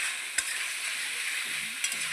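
Cauliflower and potato sautéing in a pan for a home-style Bengali fish curry, a steady soft sizzle with two brief scrape-like stirs standing out, no voices present.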